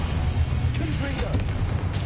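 A Confringo blast spell fired in the video game Hogwarts Legacy gives a loud, rumbling, explosive boom over dense background game noise, with a few sharper bursts throughout.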